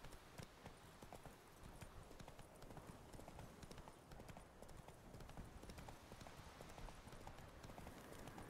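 Roach the horse gallops in The Witcher 3, her hooves beating a quick, continuous clip-clop rhythm at close range from start to finish.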